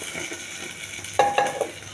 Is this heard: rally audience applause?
no